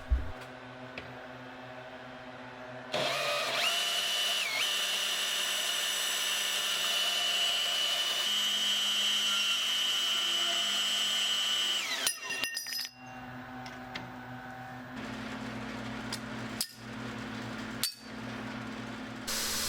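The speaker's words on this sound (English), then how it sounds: "I begin by cutting the pieces of steel to start my initial billet of Damascus" A power tool cuts pieces of 80CRV2 and 15N20 steel for a Damascus billet, giving a steady, loud whining drone for several seconds, then clanks and knocks as the pieces are handled.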